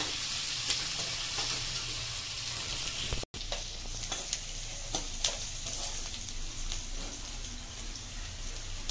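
Green chilies fry in a hot pan while semiya upma is being made, giving a steady close sizzle with crackling pops. One brief dropout breaks the sound partway through.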